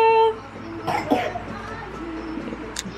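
A small child coughs a couple of times, short raspy bursts close by, with light household background noise.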